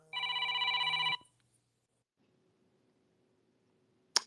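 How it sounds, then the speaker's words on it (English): A telephone rings once in a single burst of bright electronic trilling lasting about a second, followed by near silence and a faint click. "phone is ringing right now"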